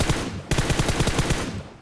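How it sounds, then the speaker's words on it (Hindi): Rapid automatic gunfire in a battle royale video game, a loud, dense burst of evenly spaced shots close up, with a brief break partway through before the volley tapers off. "तभी स्कूल से गोली चली और अपार्टमेंट से भी"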